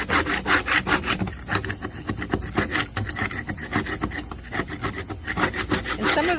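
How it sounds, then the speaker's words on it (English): A putty knife scrapes barnacles off the plastic hull of a Basstender 10.2 boat, a steady rhythmic grating of rapid close strokes, loud and continuous with no talk. "a little bit of scraping with a putty knife"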